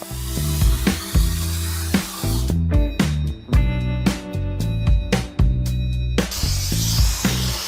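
Spray foam insulation hisses from a gun inside a metal shipping container in a string of loud bursts and pauses, with knocks and clatter between the sprays.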